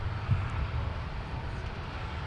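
Delta 258 Heavy, a jet airliner bound for Dublin, departs from Minneapolis–Saint Paul airport with a steady, distant low engine roar that holds evenly throughout.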